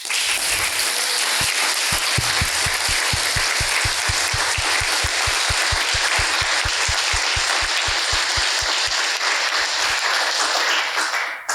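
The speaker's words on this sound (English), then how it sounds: "I think they all deserve a round of applause." A conference audience gives a team a dense round of applause that starts loud and full and fades toward the end, with a fast rhythmic group clap running through the middle.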